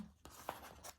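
Pen drawing around a paper chicken shape, soft close scratchy strokes on paper in a few short sweeps, quiet with no voices.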